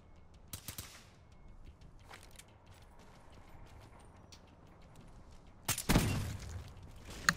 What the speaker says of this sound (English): Take that headshot. Get in. Quick scoped him and all.